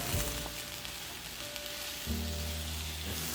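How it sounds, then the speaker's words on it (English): Garlic and peppers dropped into a frying pan with softened vegetables for a Mediterranean frittata, a soft steady sizzle that thickens partway through, heard close and alone. "Put the garlic in, the peppers,"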